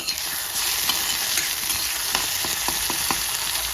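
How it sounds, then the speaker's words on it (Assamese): Garlic fries in a pan with a steady, close sizzle while a spoon stirs it, leaving a string of irregular scraping clicks over the hiss. "এতিয়া নহৰুকেইটা ইয়াত দি দিম মই, এইকণ লৰাই ল'ম।"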